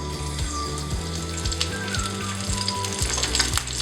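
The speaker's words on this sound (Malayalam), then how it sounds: "ഓയിലിവിടെ ചൂടായി വന്നിട്ടുണ്ട്. അപ്പോൾ നമ്മൾ പ്രോൺസ് ഫ്രൈ ചെയ്യാൻ പോവാണ്. അതിനു മുമ്പ് ഇതിലേക്ക് കുറച്ച് കറി ലീവ്സ് ചേർക്കാം കേട്ടോ." Curry leaves hit hot oil in a pan just before prawns are added for a roast, giving a loud, continuous crackling sizzle with no voices over it.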